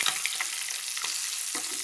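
An egg frying in a pan for a home-cooked lunch, a steady close-up sizzle of hot oil with a few soft scraping or stirring touches, no talking.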